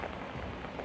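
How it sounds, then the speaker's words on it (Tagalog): Heavy rain falls in a steady, dense hiss that stays loud and even throughout the short stretch, with no voices over it. "Ngayon naman ay malakas ng ulan."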